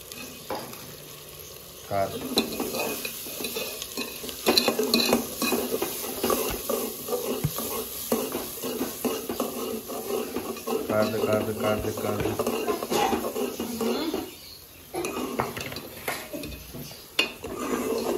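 Browned onions stirred in a frying pan, a steady sizzle with the scrape and clatter of a utensil against the pan, a person talking alongside.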